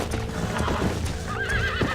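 Horse in Red Dead Redemption neighing with a wavering whinny over steady hoofbeats and clip-clop, close and fairly loud with busy game ambience.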